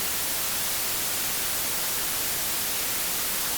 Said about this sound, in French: un casque audio qui diffuse du bruit blanc, comme ceci